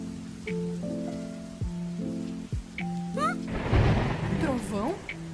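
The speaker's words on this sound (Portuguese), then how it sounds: "Trovão?" Thunder rumbles and cracks in a dubbed Gacha Club animated film, a heavy rolling burst under synthetic music tones and rain, close and fairly loud.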